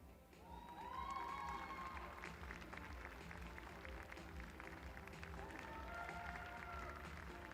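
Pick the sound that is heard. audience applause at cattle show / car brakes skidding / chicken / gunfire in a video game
audience applause at cattle show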